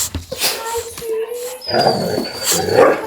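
A dog whimpers and whines in short high-pitched bursts, close and fairly loud, with rustling and movement around it in a home.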